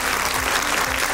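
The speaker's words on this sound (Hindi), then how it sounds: "एक बार जोरदार तालियां होनी चाहिए।" Loud, steady audience applause fills a hall at an awards ceremony, dense clapping sustained evenly throughout without a break.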